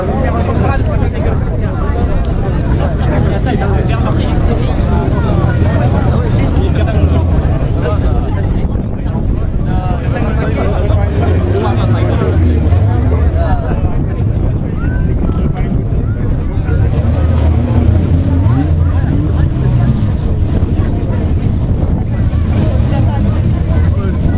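Stock cars on warm-up laps at a 2009 race track in Sarrians, led by an R5, give a continuous, loud blend of engine drone and wind noise. A commentator talks over it throughout.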